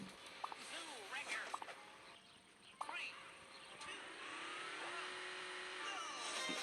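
Upgraded Hill Climber Mk 2 off-road vehicle in Hill Climb Racing, its game engine droning steadily and rising toward the end while a person talks over it.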